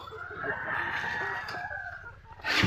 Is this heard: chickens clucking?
yes